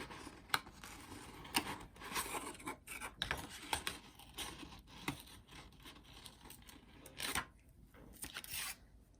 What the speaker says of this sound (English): you can cut them really quick